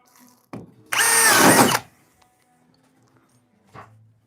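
A power drill bores through a basement wall in one loud, steady burst of just under a second. Shorter knocks come before it and after it, with quiet between them.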